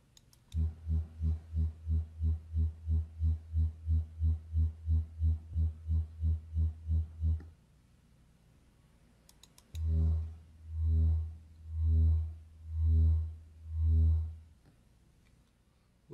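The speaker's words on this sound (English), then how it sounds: "I'm going to play three different sounds. They're all at 80 hertz." Low-frequency 80 Hz test sounds at equal loudness, illustrating wind turbine noise patterns in Canada: a fast, even train of deep pulses for about seven seconds, a pause, then five slower, swelling throbs, each around a second long.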